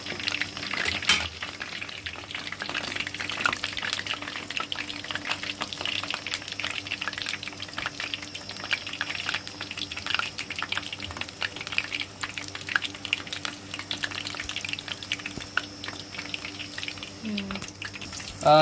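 Green chilli bajji frying in hot oil for Kurnool-style uggani bajji, a steady crackling bubble that runs throughout, with utensil stirring and a voice talking over it.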